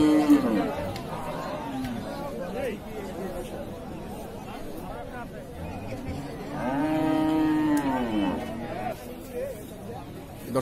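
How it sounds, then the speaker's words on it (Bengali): Friesian dairy cows at the Ambari cattle market in Dinajpur moo twice, once briefly near the start and once longer midway, amid people talking and crowd chatter. "দর্শক আমরা এই পাশে আরেকটি গাভী গরু দেখছি।"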